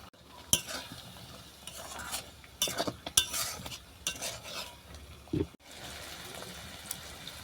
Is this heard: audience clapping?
no